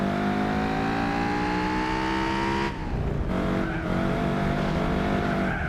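Race cars in Gran Turismo 4 roar close together as one overtakes, a loud whining engine note rising steadily, then dropping sharply as the car shifts, with faint tire squeal beneath.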